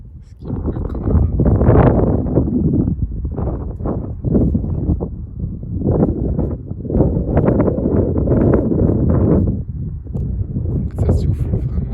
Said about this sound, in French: c'est un très très joli coup de vent, quasiment un coup de vent de secteur nord-est.